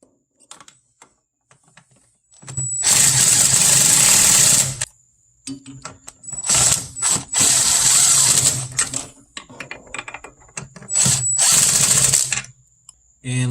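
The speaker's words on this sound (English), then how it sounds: "we're going to start by screwing our master cylinder into the brake booster" A ratchet or powered driver screws a master cylinder onto the brake booster of a Chevy Blazer/S10 in the engine bay. It runs in three loud, whirring bursts, each a few seconds long, with short quiet gaps between them.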